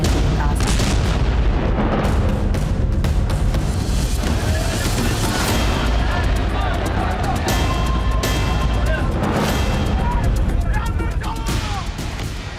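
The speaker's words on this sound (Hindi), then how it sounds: "एक जोरदार धमाका हुआ" Explosions and heavy blasts strike at a Gaza hospital, loud and chaotic, with repeated booms over constant rumbling noise and voices shouting throughout.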